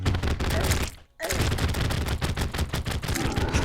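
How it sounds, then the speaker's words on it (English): Rapid repeated blasts from the Charge Blaster Cannon in Terraria, a loud dense stream of gunfire-like shots that stops for a short moment and then continues just as fast. "I'm gonna have to be really quick to show off the Charge Blaster Cannon"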